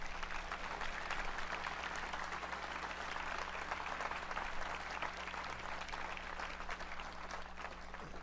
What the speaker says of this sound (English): Let's give a big round of applause to all the family and friends that made it possible.